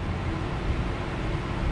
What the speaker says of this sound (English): Sorry about the noise, guys, but I'm right by a fan.